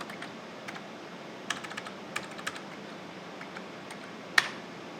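Commands typed on a computer keyboard while reading baked TK50 tapes: scattered soft key clicks in short irregular bursts, with one sharper louder keystroke near the end, close and quiet.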